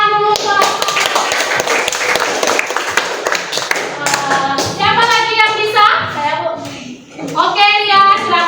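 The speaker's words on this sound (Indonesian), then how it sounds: "Kasih tepuk tangan dulu" Classmates in a classroom clap for a student, a burst of quick, uneven hand taps over the first few seconds, followed by children's voices speaking and singing out close by.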